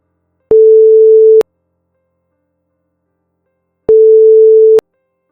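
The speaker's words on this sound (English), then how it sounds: "heard the dial tone of a phone call trying to get through" A phone line ringing out as a call tries to connect: two long, steady electronic tones about a second each, separated by a few seconds of silence, loud and clean.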